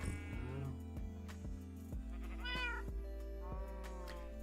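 A cat in Minecraft gives several short meows in a row, thin and clear over the game's steady low background music, fairly close and moderately loud.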